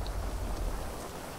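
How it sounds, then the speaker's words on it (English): Rain falling in the video game GTA V, a soft, steady patter of drops with a low rumbling background throughout. "It's raining."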